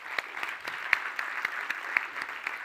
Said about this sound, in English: so let's give him a warm hand of applause, Professor Hein de Haas.